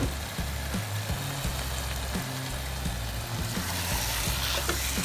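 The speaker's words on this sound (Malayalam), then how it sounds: "നമുക്കിനി ഇതിലേക്ക് ചിക്കൻ്റെ പീസ് ഇട്ട് കൊടുക്കാം." Chicken pieces for an Arabic chicken kabsa hit a hot pan and fry with a steady, dense sizzle that continues unbroken throughout, with faint stirring noises underneath and no talking.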